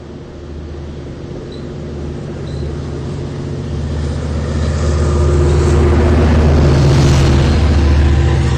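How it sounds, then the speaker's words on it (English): Long Island Rail Road train 8710 with a DM30 AC locomotive rumbling past at Mastic-Shirley, a deep engine drone and rolling noise swelling steadily louder over several seconds, heard without voices. "this is quite a sized train today"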